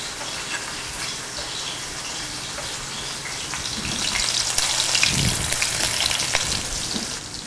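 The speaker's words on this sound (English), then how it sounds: "When you hear a nice happy sizzle like that, that means that you've got the temperature just right." Breaded cutlets sizzle in hot olive oil in a sauté pan, a steady close crackling hiss that swells louder partway through as the frying intensifies, with no talking.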